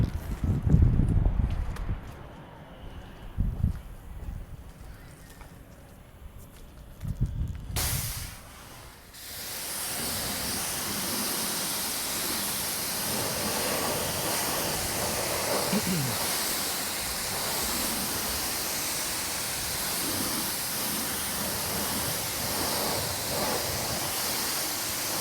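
Water spray rinsing cleaner off a car tire and rim, a loud, steady hissing rush that starts after several seconds of rustling, handling noises and talk, then runs continuously to the end.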